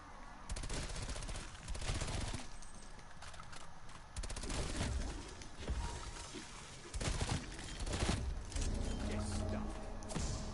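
Automatic weapon fire in the shooter game Call of Duty: Black Ops Cold War, loud, rapid bursts repeated several times with brief pauses between them, dense and close.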